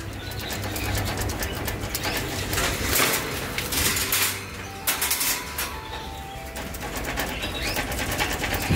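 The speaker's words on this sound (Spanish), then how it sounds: "¿Qué le pasa a los pájaros?" Caged pet birds cooing and chirping indoors, soft repeated coos and scattered calls with occasional wing flutters and rustling, close and continuous with no talk.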